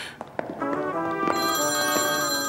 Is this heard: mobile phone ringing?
yes